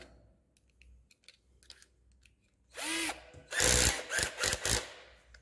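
Quiet clicks and small handling noises, then a power drill with a star-point Pozidriv bit drives screws in a few short bursts while assembling a Kingstar KS 8700 ULA, close by and loud.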